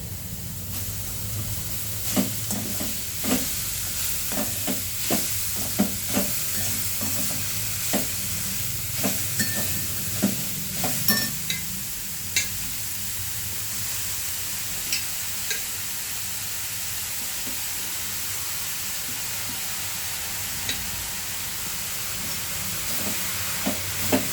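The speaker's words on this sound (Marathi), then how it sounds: "आता ह्याच्यामध्ये मी लगेच मेथी घालून भाजी बनवून घेणार आहे" Fenugreek (methi) leaves stir-fry in a pan with chilli powder and salt, a steady low sizzle with frequent sharp scrapes and taps of a spatula early on that thin out into quieter, continuous frying.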